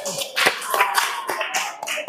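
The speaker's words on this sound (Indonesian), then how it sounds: "tepuk tangan untuk Ari" A classroom claps for a first-place winner in a school lesson activity, scattered uneven hand claps from a small group with a few sharp louder strikes, fairly close.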